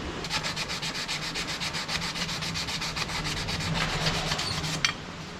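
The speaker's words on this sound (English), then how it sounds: "Sanding the pillars." Steady rhythmic sanding of clutch pillars on a Wildcat, a rough back-and-forth rasping stroke repeated rapidly and evenly, close and fairly loud, ending with a sharp tap.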